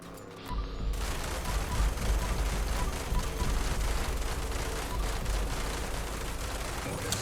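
Sustained heavy minigun fire in the video game Fallout 76, a dense continuous rattling roar that starts abruptly after a brief quiet moment and holds loud and steady to the end.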